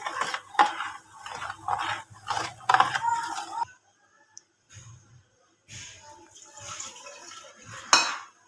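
Beetroot, orange and carrot juice with salt is mixed with a spoon, producing close metallic clinks and scraping against the container in uneven bursts, with a brief pause in the middle, then more stirring.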